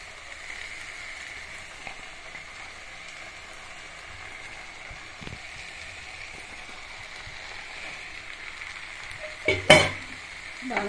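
Tomato rice with a little ghee being stirred in a hot pan, with a soft, steady sizzle and faint scraping throughout, then a louder burst of clattering stir strokes near the end.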